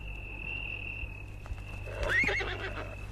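A horse gives a short whinny around the two-second mark, fairly close and moderately loud, over a steady high electronic tone and a faint low hum, with occasional light thumps.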